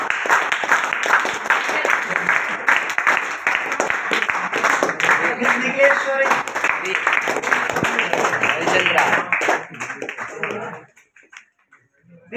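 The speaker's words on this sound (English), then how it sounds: "Those students, none other than Miss Anusha, please give a big round of applause." An audience at a student presentation event applauds for a student in dense, sustained clapping that runs for about ten seconds, then cuts off abruptly into near silence.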